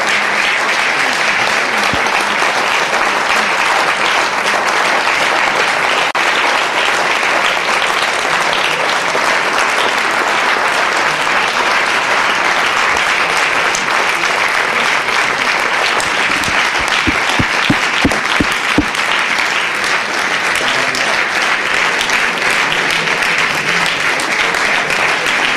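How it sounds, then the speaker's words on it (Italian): A large audience at a public talk with Giovanni Impastato, brother of Peppino Impastato, claps steadily and loudly, a dense unbroken roar of hands that holds for about twenty-five seconds. "questo applauso è significativo"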